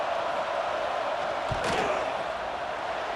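A stadium crowd in the College Football 26 video game roars steadily during a Boston College vs Michigan State field goal attempt, a constant loud wash of crowd noise with a brief thump and swell partway through.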